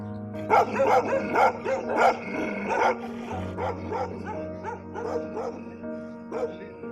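Several neighbourhood dogs bark and yip in a loose, overlapping chorus, close and loud over a steady background hum, with some whimpering mixed in.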